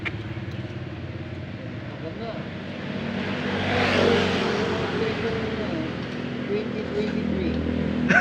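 A 2002 Isuzu Crosswind engine idles nearby with a steady low hum, swelling briefly as it revs and then settling again, while people talk over it.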